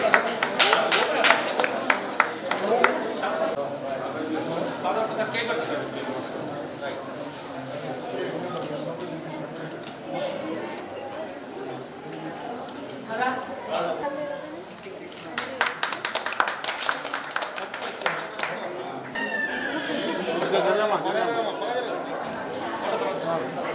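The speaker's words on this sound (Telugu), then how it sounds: "అందరు గట్టిగా చప్పట్లు కొట్టండి." A crowd claps at a Christmas celebration held with a state minister, bursts of hand clapping that rise and subside under steady chatter and talk from the gathering.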